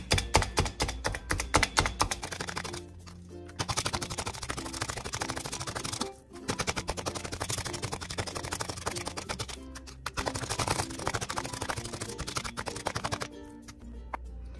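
A meat tenderizer stabs repeatedly into raw pork chops on a board, a fast run of close, sharp clicking punctures in bursts, broken by brief pauses.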